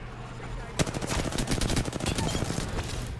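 Rapid automatic gunfire from an Apex Legends match erupts after a brief hum and continues as a dense, loud stream of shots, with a voice faintly mixed in.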